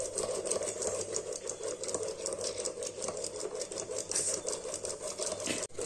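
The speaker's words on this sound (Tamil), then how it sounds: "இப்போ வந்து ஜீனி நல்லா கரையிற அளவுக்கு நம்ம வந்து பீட் பண்ணிக்கணும்." Eggs and sugar beaten by hand with a whisk in a bowl make a fast, steady, rhythmic clatter that stays close and even throughout, with no voices.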